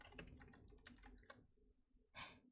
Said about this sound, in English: Keyboard typing ASMR.